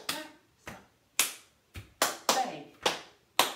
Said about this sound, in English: stomp, clap, clap, stomp, clap, stomp, clap, clap